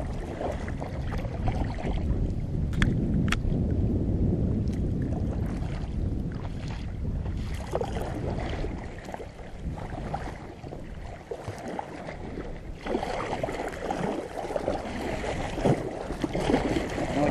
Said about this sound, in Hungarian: annak a hajónak a hullámai.